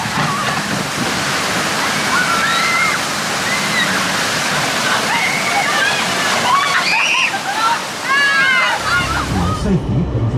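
Water ride at Flamingo Land theme park on a warm June day: continuous loud rushing, sloshing water throughout, with excited voices and shrieks riding over it before the torrent cuts off near the end and a low rumble takes over.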